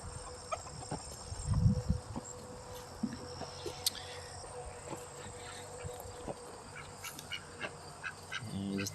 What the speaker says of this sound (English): just a bunch of ducks hanging out